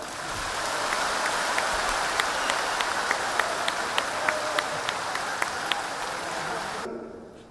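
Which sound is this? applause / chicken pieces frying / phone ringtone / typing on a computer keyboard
applause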